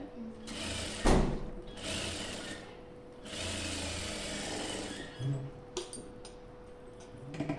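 A sewing machine stitches a lined blouse sleeve in several short running bursts separated by brief pauses, with a faint voice in the background.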